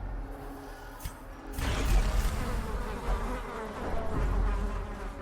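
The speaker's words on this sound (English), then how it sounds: "God, I hate the mosquito sounds." Persistent insect buzzing of mosquitoes in the dark fantasy game Darkest Dungeon, a dense droning whine that swells louder after the first second and hums steadily with no voices.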